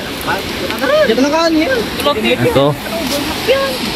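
Rushing river water at a flooding riverside, a steady broadband rush running continuously beneath a person talking throughout.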